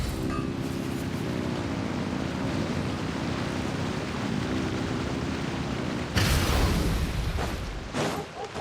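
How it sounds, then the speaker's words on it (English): Ocean waves wash steadily at a harbor port in Genshin Impact, a continuous broad surf and wind wash with a low droning hum underneath, swelling louder near the end with a brief splash. "The sound of the waves in this familiar port."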